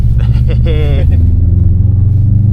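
A Subaru STI's loud, deep engine rumble drones steadily from inside the car on an icy snow track during a winter track day, with a voice speaking briefly over it at the start.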